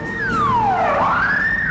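A police car siren in a film sweeps loudly down then back up in pitch as it passes close by, with a low background rumble and no talk.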